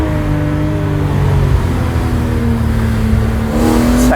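A BMW E46 M3 engine revs hard while accelerating up through the gears, its steady rising drone loud and close, with a gear change near the end and no talk.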